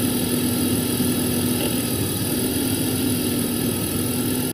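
A BMW engine with a Vanos fault idles with a steady droning hum and faint mechanical ticking, close and continuous, holding roughly even before cutting off abruptly at the end.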